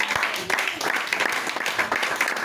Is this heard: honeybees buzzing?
no